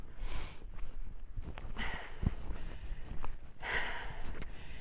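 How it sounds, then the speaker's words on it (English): A hiker breathes heavily during an intense climb at Chimney Rock, Ghost Ranch, New Mexico, with repeated loud close-up exhales and gasps spaced a second or two apart, plus faint footstep scuffs. "I'm breathing hard with you."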